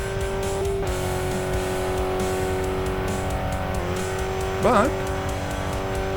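Steady car engine drone at high speed in a racing video game, a fairly loud, even hum with a brief rising whine near the end, while a voice talks over it.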